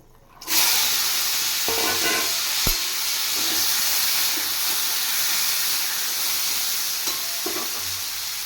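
Boiled chickpeas tipped into a hot oiled pan with chopped onion, bursting into a loud sudden sizzle that settles into a steady hiss with a few faint stirring knocks, no voices.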